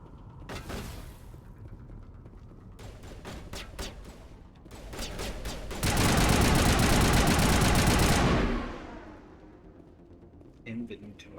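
Bursts of gunfire rattle in Mass Effect Legendary Edition: quick single shots, then rapid automatic volleys, followed by a sustained loud roaring blast lasting a couple of seconds, with a person talking intermittently between the shooting.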